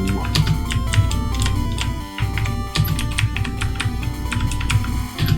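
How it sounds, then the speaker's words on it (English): Keys on a gaming computer keyboard clatter in quick, irregular bursts of clicky typing, close and crisp, with brief pauses between flurries. "Sorry about if you can hear the clickety-clack of my keyboard. It's my gaming keyboard."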